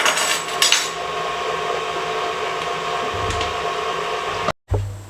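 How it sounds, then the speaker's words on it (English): Electric hand mixer whirring steadily through cream cheese and apple pie filling, a continuous buzzing motor drone with a short clunk near the end and a brief cut before it resumes. "now we're just going to mix this until everything's nice and creamy"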